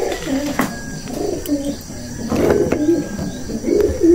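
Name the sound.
birds being unboxed from a box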